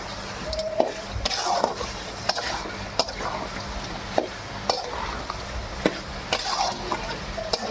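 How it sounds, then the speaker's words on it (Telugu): Spicy chicken with chili powder is stirred in a pan, with repeated close spoon scrapes and taps over a steady frying sizzle. "ఇలా కారపొడి వేసుకున్న తర్వాత నీట్గా అయితే అంతా కలుపుకుంటున్నా."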